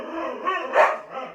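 Dog barking indoors at a postman at the door, a short burst of two or three close, loud barks with a growly edge.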